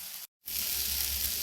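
Onion and tomato sauté in a pan, giving a steady close sizzle that breaks off for a brief moment and then resumes at full strength.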